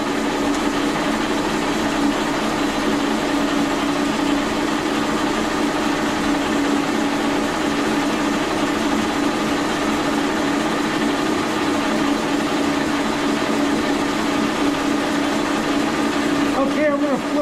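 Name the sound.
milling machine running 3/4 inch end mill at 710 RPM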